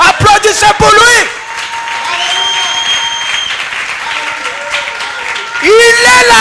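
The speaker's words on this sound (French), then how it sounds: "Applaudissez pour lui." A church congregation at a French-language worship service claps in a brief burst, while music with sustained tones plays and a voice speaks at the start and end.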